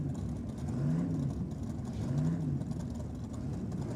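Big Chevy drag racing car engine at a nitro drag meet, a loud steady rumbling roar with rising revs, heard continuously through the whole stretch.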